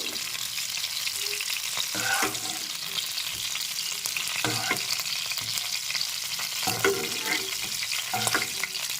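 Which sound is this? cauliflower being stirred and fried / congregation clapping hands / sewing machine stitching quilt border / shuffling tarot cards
cauliflower being stirred and fried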